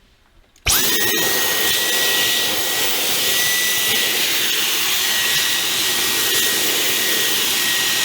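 Dyson vacuum cleaner with a crevice tool attached switches on abruptly and runs as a loud, steady, high-pitched whine and roar, close by.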